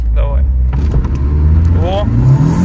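A car engine labours and revs under hard acceleration in a 0-100 km/h run of about ten seconds, a steady close rumble heard from inside the cabin, with voices speaking over it.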